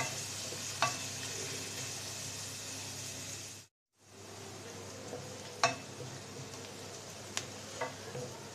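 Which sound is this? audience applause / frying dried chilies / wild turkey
frying dried chilies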